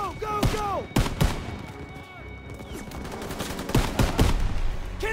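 Machine gun fire in a World War II video game: several sharp, loud bursts of rapid shots spread across the moment, mixed with battle noise and shouted voices.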